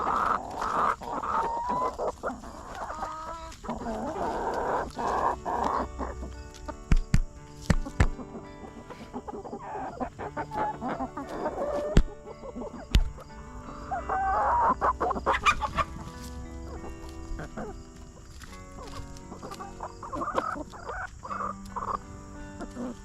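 Chickens kept for meat cluck and chatter steadily throughout, with a rooster crowing partway through and scattered sharp knocks and handling sounds nearby.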